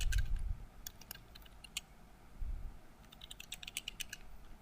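Fingers type on a computer keyboard in quick, close, quiet clicks and short bursts of keystrokes with brief pauses between them, under a low room hum and with no voices.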